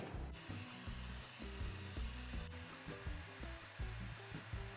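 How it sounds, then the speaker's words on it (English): A Shark FlexStyle hair dryer blows continuously nearby, a steady whooshing hum with slight rhythmic fluctuations as it moves, no talking. "I'm gonna place the blow dryer here"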